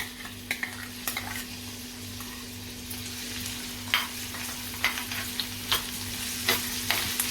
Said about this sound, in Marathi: आता लसूण आणि मिरची घालायची फोडणीमध्ये